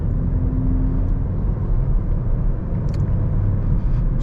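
Audi S3 8Y in sport mode, its exhaust giving a steady, loud low rumble from inside the car while driving, with no talk over it.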